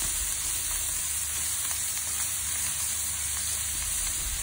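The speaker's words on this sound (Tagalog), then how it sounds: "O yung para maluto ang kamatis yan, igisa-gisa natin." Tomato and garlic sizzle steadily in hot oil in a pan, a close, even frying hiss with faint crackles and no voices.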